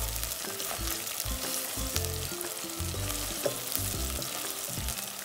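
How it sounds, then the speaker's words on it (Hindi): Fish pieces frying lightly in hot oil in a pan give a steady, close sizzle with crackling pops throughout, with no voices. "अभी इसमें फिश डालेंगे. फिश को लाइटली कुक करेंगे."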